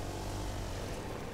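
Propeller airplane engine droning steadily in Fortnite, a dense continuous hum that stays loud and close through the whole short moment with no voices over it.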